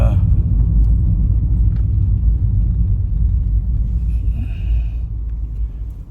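Cars pass along a road in a continuous, loud low rumble of traffic that swells and fades slightly, with a brief higher whine near the end.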